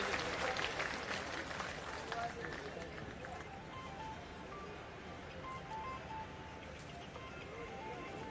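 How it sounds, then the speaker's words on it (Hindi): A crowd at a retirees' felicitation gathering in Jaipur claps to welcome a retiree, a dense roar of hands that is loudest at first and then settles into a steady, softer patter, heard from a distance. "तालियों की गड़गड़ाहट के साथ स्वागत किया जाए"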